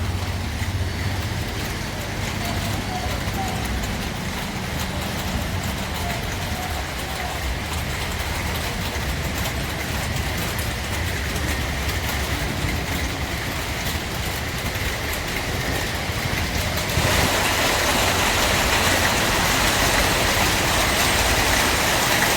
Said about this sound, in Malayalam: നമ്മുടെ ഈ ആസ്പെറ്റോസ് ടിൻഷീറ്റിലൊക്കെ വീഴുന്നത് കാണാൻ നല്ല ഭംഗിയാണ്. ഇതാ മഴ പെയ്യാൻ തുടങ്ങിയിട്ടുണ്ട്.